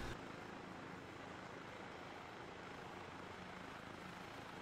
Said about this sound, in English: Death is flying the helicopter.